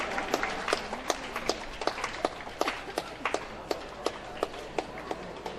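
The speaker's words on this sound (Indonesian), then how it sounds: "kita berikan aplaus untuk imam baru kita" Congregation applauding a newly ordained priest at a Catholic thanksgiving Mass, steady scattered handclaps at moderate distance with faint voices beneath.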